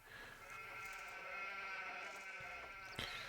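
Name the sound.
sheep bleating in video game Anno 1503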